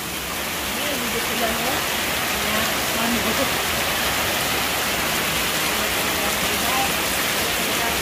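Dense, steady rain hisses throughout, a constant wash of drops on surfaces, with faint voices murmuring underneath.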